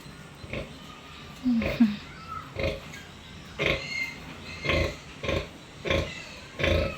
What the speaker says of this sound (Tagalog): Ayan po, nagpapagibik po yung inahin.